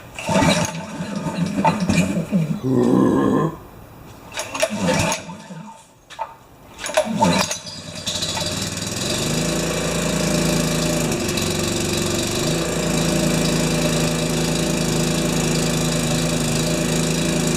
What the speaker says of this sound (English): So, choke on. Spark plugs in. It should start.